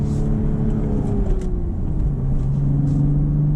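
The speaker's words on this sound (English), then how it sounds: "Rev match downshift" A 2025 BMW Z4 M40i with a manual transmission blips its engine for a rev-matched downshift, a loud, close, steady rumble whose pitch dips and then holds through a smooth whirring drone, with no voices.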